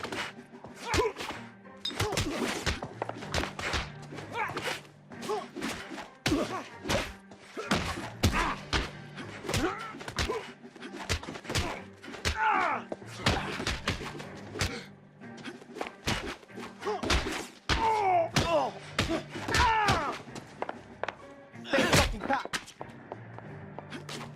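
Fistfight punches land in the video game L.A. Noire, a scuffle of repeated heavy thuds and smacks at an irregular pace, with grunting voices in between, moderately close.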